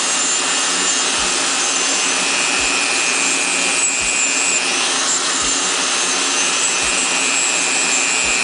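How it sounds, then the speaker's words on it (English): A Dremel rotary tool grinds copper plating off a zinc penny, giving a loud, steady high-pitched whine and abrasive rasp that holds without pause from start to finish, close up and alone. "Now here's the Dremel. Grind that copper off the zinc."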